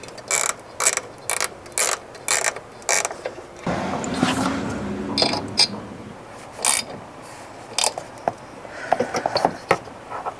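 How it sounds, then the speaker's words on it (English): A T20 Torx driver drives screws back into a BMW G80 M3 light assembly, giving repeated ratcheting clicks in short bursts with a scraping, creaking stretch in the middle, close and loud, with no voices. "now I'm gonna take the T20 again And we're going to put those screws back into place."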